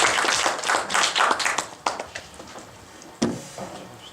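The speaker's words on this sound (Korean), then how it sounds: "박수 한번 부탁드리겠습니다." A seminar audience applauds after a talk: a brief burst of clapping from a small group that quickly thins to a few scattered claps, with one sharp clap near the end.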